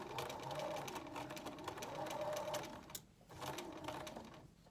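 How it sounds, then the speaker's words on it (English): A sewing machine runs a straight stitch along the edge of a cloth face mask with elastic, whirring steadily in near, continuous runs with one brief pause before stitching resumes. "And you just straight stitch, keeping your fabric lined up here"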